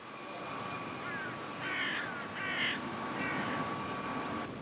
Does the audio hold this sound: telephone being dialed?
no